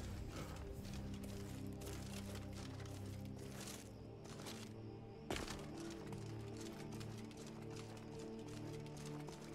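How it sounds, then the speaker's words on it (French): Horse hooves clip-clop faintly in a modded Skyrim game world, with a soft possible neigh over quiet ambient game sound and no clear talk. "Je crois entendre un cheval qui hennit"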